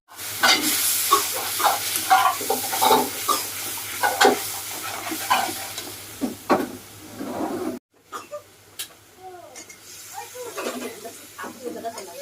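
Small fish frying in a home kitchen pan, a steady broadband sizzle with bursts of stirring and clatter up close, running continuously for several seconds before a brief break, then quieter sizzling with faint scraping.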